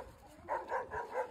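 Short, quiet dog barks in a meme clip: three or four quick woofs in a row after a brief soft lead-in, fairly close and heard alone.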